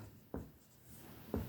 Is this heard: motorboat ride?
no